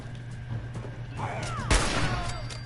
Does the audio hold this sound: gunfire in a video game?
yes